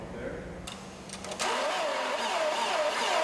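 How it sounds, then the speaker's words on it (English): Passenger car engine cranking in extreme winter cold at a test facility, a steady rhythmic starter grind with a wavering whine repeating over a constant loud roar, after some shuffling and clicks at the start. "we're able to keep on cranking away just to make a point"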